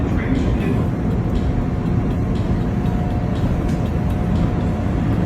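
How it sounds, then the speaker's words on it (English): A Chicago Brown Line elevated train runs with a steady, loud low rumble and rattle throughout, heard from inside the car, with faint voices in the background. "This is a brown line train."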